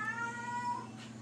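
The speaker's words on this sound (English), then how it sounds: "He's a weird cat." A domestic cat meows once, a clear drawn-out mew up close over a low steady background hum.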